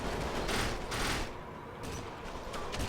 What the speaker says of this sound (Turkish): Ya herife Uzi ile sıkıyorum öl artık be.